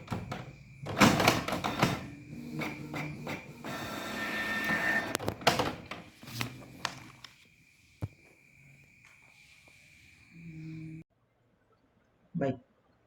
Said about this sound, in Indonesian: berikut ini adalah video proses printing pada printer yang telah di-share oleh komputer